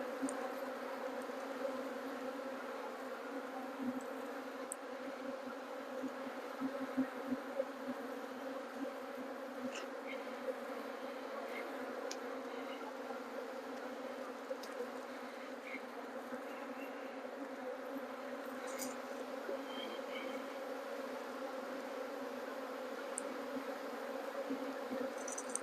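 Honey bees buzz steadily around an opened hive during a smoked inspection while a split is attempted, a dense continuous hum close by with individual bees passing near.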